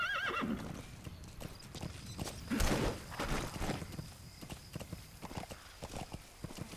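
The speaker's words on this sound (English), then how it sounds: "Use your horse." In the Metal Gear Solid V video game, a horse's hooves clip-clop in a quick, steady rhythm, with a whinny near the start and a louder burst partway through.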